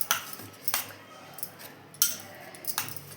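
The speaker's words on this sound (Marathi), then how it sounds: "बटाटा आणि शाबूचे तांदूळ घट्ट चिकटून बसलेत त्याला पातेल्याला हलवून घ्यायची" A spoon stirs a thick mix of potato and soaked sago in a metal pot, giving a few sharp scraping clinks spaced about a second apart, close and fairly quiet.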